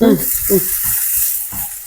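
Cluster bean thoran frying in a pan and being stirred, a steady sizzle with intermittent scraping strokes, with a brief voice near the start.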